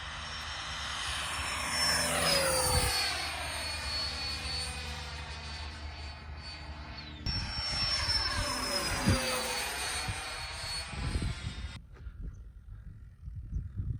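A slow model F-22 jet aircraft flying past with a sustained engine whine that sweeps in pitch as it passes, rising and fading across two passes, fairly distant and steady, ending with quieter rumbling.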